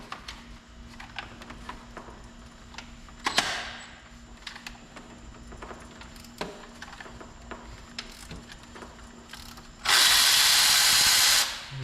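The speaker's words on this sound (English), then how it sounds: "Let me see if I can get my impact in for that one." An impact wrench hammers at a power steering pump bolt on a Silverado SS: a loud, rattling burst lasting under two seconds, following quiet clicks and clanks of tools being positioned.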